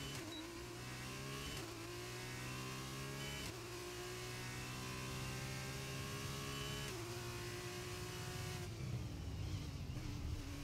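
Race car engine in a Formula racing video game lifting off the throttle: steady high-pitched engine whine with falling and rising tones as revs drop and shift, continuous and moderately loud, no talk.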